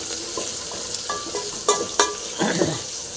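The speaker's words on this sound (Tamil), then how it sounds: "பூண்டு போட்டு நல்லா ஃப்ரை பண்ணிக்கலாம்" Crushed garlic frying with shallots in oil for radish and bean sambar, a soft continuous sizzle with a few clinks and scrapes of a spoon stirring in the pan, close and moderately loud.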